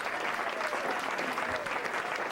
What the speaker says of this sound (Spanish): le den un fuerte aplauso